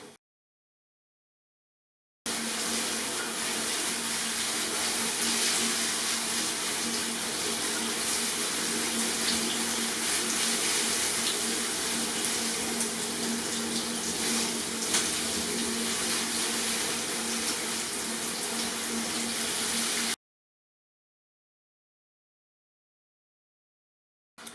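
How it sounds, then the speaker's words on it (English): Shower water sprays steadily over a parlour palm plant for about eighteen seconds, a loud continuous hiss and patter of rinsing water that starts and stops abruptly, with no talking. "So you want to shower all over the top of the plant"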